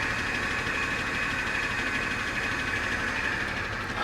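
A 2017 BMW M240i engine idling with a touch of throttle, a steady mid-pitched hum and vibration heard up close, constant in level with no talking.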